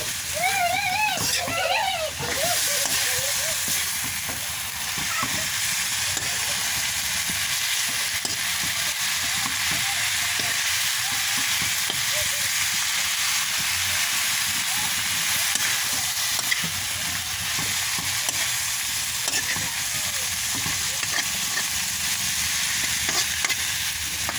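An egg omelet fries in a pan, giving a loud continuous sizzle and crackle while it is stirred with scraping touches; a brief voice is heard near the start.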